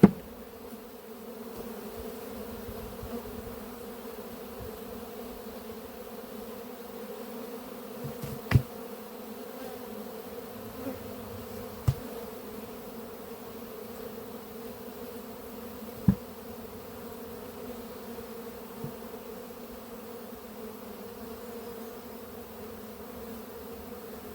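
Honeybees swarm around an apiary hive with a steady, close, unbroken buzz, punctuated by a few soft knocks from handling the hive.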